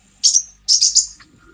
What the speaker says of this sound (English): Is that the evil bird chirping?